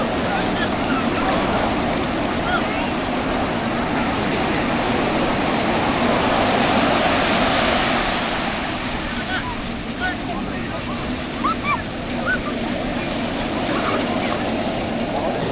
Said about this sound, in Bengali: পুরীর সমুদ্রের ঢেউয়ের এত গর্জন আর এত মিষ্টি আওয়াজ